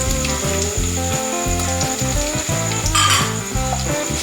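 Ginger slices hit hot oil in a pan while making star fruit (chambakka) pickle, just after asafoetida powder goes in. A steady sizzling hiss runs throughout, partly masked by loud melodic background music.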